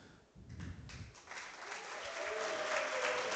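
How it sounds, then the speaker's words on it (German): An audience at a live prompt battle event applauds: clapping swells from a quiet start into sustained, fairly dense applause through the end. "Euer Applaus für Anna."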